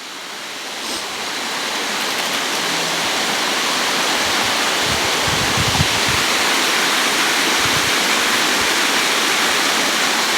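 A waterfall at Glen Lednock pours steadily, a dense continuous rush of falling water that stays loud and even throughout, with no voices over it.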